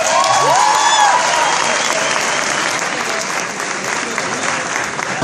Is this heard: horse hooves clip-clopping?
no